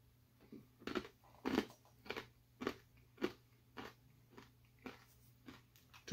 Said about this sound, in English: Typical corn nut crunch.